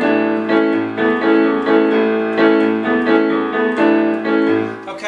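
Piano plays a rhythmic repeating riff imitating a guitar lick from an early 1960s song, steady pulsing chords with a recurring low bass figure, close and continuous without talking.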